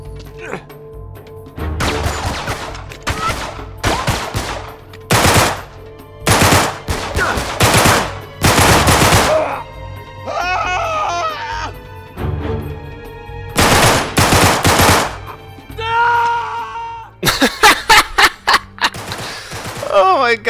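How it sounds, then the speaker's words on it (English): Gunfire in Uncharted 3 comes as repeated loud bursts and single sharp shots in irregular clusters, with in-game voices and shouting between the volleys. "we got dudes shooting us from somewhere"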